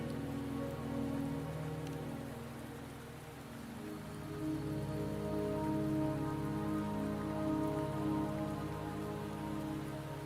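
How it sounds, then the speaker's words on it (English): Steady rain falling in a video game, a soft, even hiss of drops on surfaces with faint low rumbling underneath, continuous and unbroken with no voices. "Don't worry, the rain won't last much longer."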